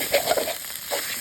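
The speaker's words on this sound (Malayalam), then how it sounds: "അപ്പം നമ്മൾ ശ്രദ്ധിച്ച് ഇളക്കി ഇങ്ങനെ കൊടുക്കണം." Food frying and sizzling in a pan while being stirred carefully so it does not burn, a soft steady crackle with a few brief scraping stirs, close and alone without talk.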